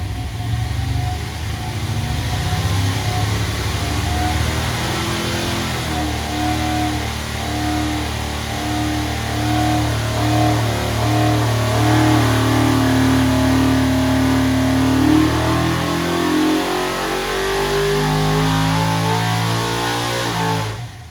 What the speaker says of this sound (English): This is a great sounding motor